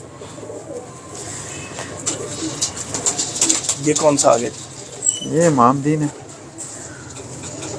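Racing pigeons in a Lahore loft coo in soft, throaty repeated rolls, rising twice into clearer bursts, while someone talks nearby over the birds.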